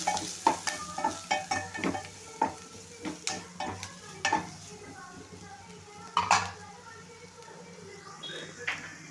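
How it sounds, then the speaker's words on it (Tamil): Onions with chili, coriander and garam masala powders are stirred in a pan for an egg fry, with sharp spoon clinks and scrapes against the metal over a faint sizzle and low background hum. "இதெல்லாம் சேர்த்துட்டு ஒரு கிண்டு கிண்டு விட்டுக்கிடுவோம்"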